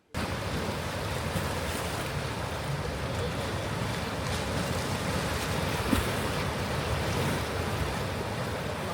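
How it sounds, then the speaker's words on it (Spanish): Ocean waves surge into a bay as the tide rises, a steady broadband roar of surf with wind noise on the microphone, continuous and fairly loud throughout with no talking. "Cuando nosotros llegamos en un principio no estaba el mar como se ha estado moviendo ahora"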